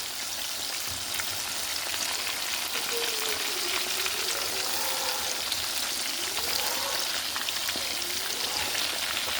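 White fish sizzles in a frying pan, a steady soft crackle and hiss that continues evenly throughout with no talking.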